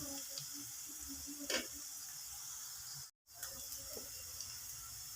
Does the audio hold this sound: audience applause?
no